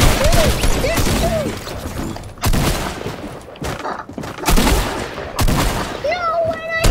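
A hunting rifle and other weapons fire during a Fortnite Battle Royale match, Chapter 2 Season 3. Loud, sharp shots and bursts land in quick succession while a player talks excitedly between them.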